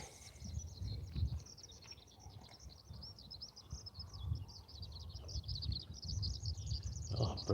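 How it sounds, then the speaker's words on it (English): Birds chirp steadily in a Tokyo garden, a busy stream of high twittering calls over a low, constant city rumble. "Oh, birds are chirping here."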